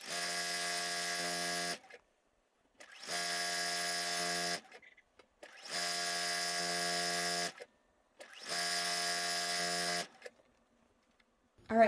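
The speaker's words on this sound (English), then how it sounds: "So let's just sew a few of these strips, build out a strip set" Four bursts of a sewing machine running at steady speed while stitching fabric strips, each a few seconds of even mechanical whir separated by short quiet pauses.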